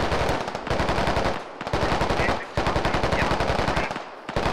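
Sustained automatic gunfire in the military shooter Squad, rapid close bursts of machine-gun shots in three long volleys separated by brief pauses.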